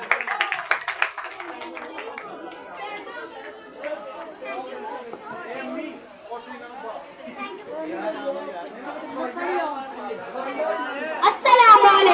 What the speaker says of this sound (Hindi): आमना के लिए जोरदार तालियां हो जाए